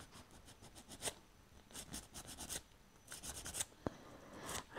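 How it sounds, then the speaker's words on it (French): Filing the edges of an acrylic resin fingernail, with short bursts of quiet, raspy strokes repeated close by and no voices. "On va venir éventuellement relimer un tout petit peu"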